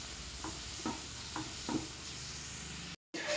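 A ladle stirs karimeen (pearl spot) pappas curry in a pan, giving a few soft scraping strokes at a steady pace over a constant low sizzle, with no talking.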